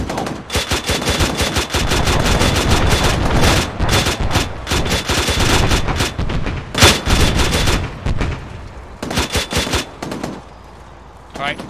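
ARMA 3 special-operations gunfire: dense, loud automatic bursts and rapid shots from several weapons, almost continuous before thinning to separate bursts and tapering near the end, with voices partly under the shooting.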